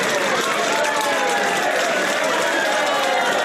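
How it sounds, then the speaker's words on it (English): Studio audience applause at a literature podcast recording, a dense, steady wash of clapping filling the room throughout without a break. "That's a really lovely round of applause from the studio audience"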